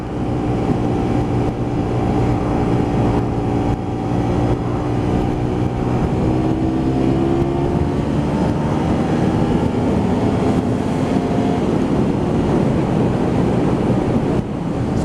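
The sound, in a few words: Honda VTR250 motorcycle accelerating from 0 to 100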